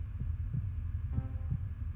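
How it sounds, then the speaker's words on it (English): A slow, muffled heartbeat pulses in the eerie ambience of the horror video game Realms of the Haunting, with soft thudding double beats repeating steadily under a low hum and no talk. "There's the heartbeat sound's coming from there"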